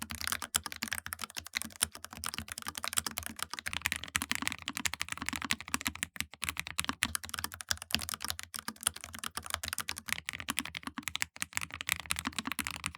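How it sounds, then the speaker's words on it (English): Rapid, steady typing on an ASUS ROG Falchion RX low-profile mechanical keyboard, heard up close, with a continuous stream of crisp clicks and no voices. "just listen to them back to back."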